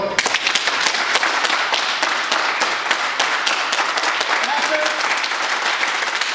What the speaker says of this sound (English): Clap your hands 25 times.